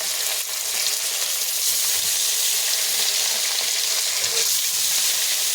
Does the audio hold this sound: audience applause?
no